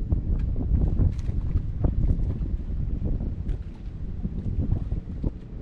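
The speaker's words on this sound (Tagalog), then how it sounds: "Amigo, nagsimula na naman yung amihan." Strong amihan monsoon wind at sea buffets a small fishing boat, a dense, continuous roar with steady gusting rumble and microphone buffeting throughout, no talk.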